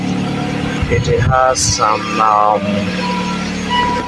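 A hybrid vehicle's petrol engine idles with a steady, low hum, close by, while a person talks over it.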